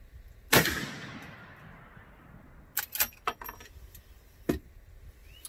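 A brush gun cartridge fires a single sharp shot at test coupons, its report trailing off in a decaying tail, followed by a few faint metallic clinks and clicks.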